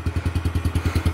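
A kids' dirt bike engine idles right after starting, a close, loud, steady chugging with quick regular pulses and a metallic clatter, and no voices over it.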